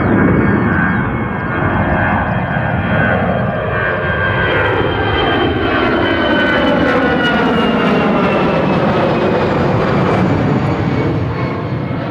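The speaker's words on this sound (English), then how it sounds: "As that went overhead, it looked more like a 319 than a 320." EasyJet jet airliner, apparently an Airbus A319, passing overhead at London Gatwick Airport, a loud continuous engine roar with a sweeping, shifting drone that stays strong throughout.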